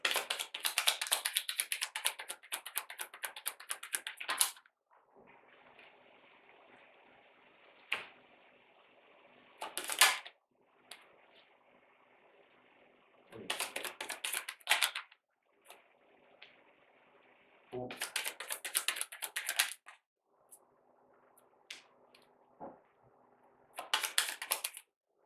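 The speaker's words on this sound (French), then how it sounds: "quand je brasse les cartes, on m'entend pas" Tarot cards being shuffled, crisp riffling and tapping bursts of several seconds each alternating with quiet stretches of faint background hiss, close and fairly soft.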